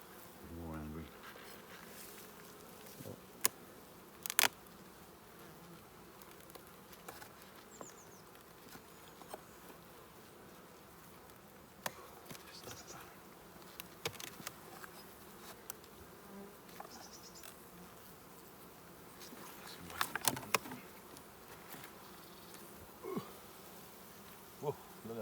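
Honey bees buzz around an open hive in a steady, faint, continuous hum, with occasional soft clicks and knocks from nearby handling.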